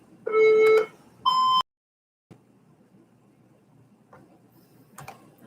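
Two short electronic beeps from a workout timer in quick succession, close and clear, followed by a quiet room with a few faint clicks.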